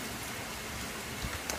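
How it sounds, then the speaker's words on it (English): Steady soft rain falling in Florida, a continuous fine hiss with a couple of faint drips standing out near the end. "Look at all that rain."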